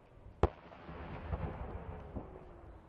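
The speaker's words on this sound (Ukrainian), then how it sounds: "Вибухи тут не змовкають ні на хвилину" Artillery shelling in the ruined city of Bakhmut during wartime: one sharp, distant blast stands out against a low rumbling background, followed by softer far-off thuds, with no voices.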